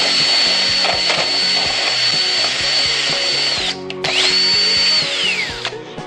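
A power drill mixes iron powder into thermal epoxy, whining loudly and steadily, pausing briefly near the end before spinning up again and winding down.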